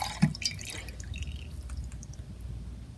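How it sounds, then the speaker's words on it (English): Hot candle wax at about 160 degrees poured out for candle making, a soft trickling, dripping liquid flow with a brief splash near the start, steady and close over a low hum. "we take the wax and we start pouring it out as it's hot"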